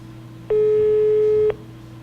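A telephone busy tone sounds once on an unanswered call to a company director. It is a single steady electronic beep lasting about a second over a faint hum.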